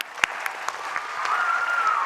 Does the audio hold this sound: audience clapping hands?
yes